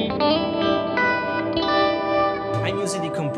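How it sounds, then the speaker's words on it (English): Clean electric guitar tone played through a Tone King Imperial MKII amp plugin from Neural DSP, ringing chords and notes washed in chorus, echo and reverb, sustaining smoothly with a few bright plucked accents near the end. "So this is the clean tone, maybe with my original clean tone."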